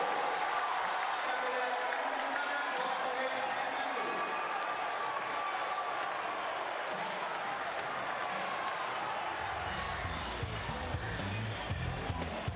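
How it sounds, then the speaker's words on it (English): Crowd noise fills a high school basketball gym, Stepinac against Cardinal Hayes, during a timeout: a dense, sustained roar of cheering and clapping that continues for the whole stretch and swells toward the end. "listen to this crowd"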